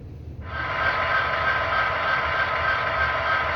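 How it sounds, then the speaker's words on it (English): An Athearn Genesis SD70M model diesel locomotive kicks in and settles into a steady, even idle rumble with a buzzing engine tone, close and continuous. "Nice idle sequence, just idling."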